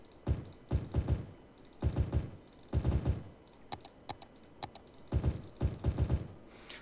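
An old Apple keyboard clatters close by in uneven bursts of loud, sharp keystrokes separated by short pauses, with no voice over them.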